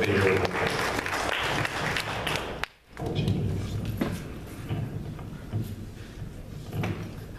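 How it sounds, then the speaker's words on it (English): Mourners at a Columbus, Georgia AIDS candlelight vigil give a sustained round of clapping, fairly loud and steady, with a brief lull partway through before the applause picks back up. "So let's give him a big round of applause"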